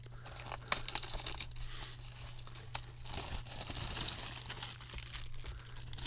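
A sealed trading card pack being cut and torn open at close range, with soft crinkling of the wrapper, a sharp snip near the middle and steady low hum underneath.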